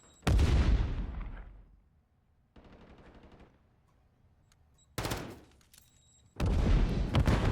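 Loud bursts of automatic gunfire in an esports video game match, several sharp volleys separated by short pauses, with a softer, distant rattle of shots between them and no talk.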